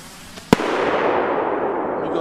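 TOTAL PXR303 firework rockets burst outdoors near a forest with one sharp, loud bang followed by a long rolling echo and crackle that carries on for nearly two seconds.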